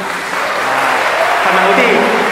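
Guests at a wedding ceremony clap in support of the nervous couple, a steady, loud wash of applause that continues without a break while people talk over it.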